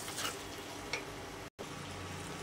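Chili powder being stirred into prawn curry in a pan, giving a steady soft sizzle and scraping that runs continuously for a couple of seconds, with one brief dropout near the end and no talking.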